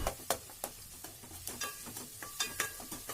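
Onions, chillies, mint, ginger-garlic paste and turmeric stirred in a pan for egg fried rice, a soft sizzle under repeated scraping clicks of a spoon at an uneven stirring rhythm, fairly close but quiet.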